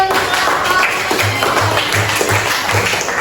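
Classroom applause from a group of children in an Indonesian class, a patter of claps that sounds close and lasts a few seconds, with a rhythmic thumping running underneath.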